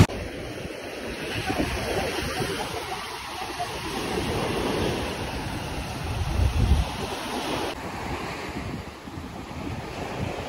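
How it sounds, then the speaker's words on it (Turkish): Waves wash steadily onto a shore at Arsuz, Hatay, Turkey, with gusts of wind buffeting the microphone, a continuous rushing surf with no voices. "Bugün hafif bir rüzgar olduğu için biraz dalga var."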